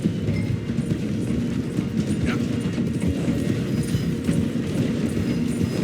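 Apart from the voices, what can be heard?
steam train rolling, from video game Red Dead Redemption 2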